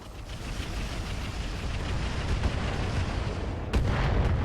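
Artillery fire in the RogueTech video game booms and rumbles in a heavy, continuous barrage, with a sharper blast near the end, loud and without talking over it.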